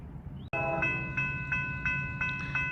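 A southbound train passing a railroad crossing on Church Street, its horn sounding after a sharp onset and repeating in several long, loud blasts over a low rumble of the moving cars.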